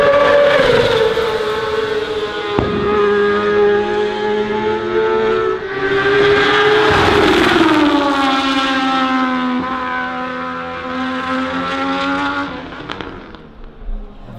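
Stefano Manzi's racing motorcycle screams past on the Cremona circuit, a loud, close, high-revving engine wail that climbs and shifts pitch through gear changes before fading slightly as it moves away.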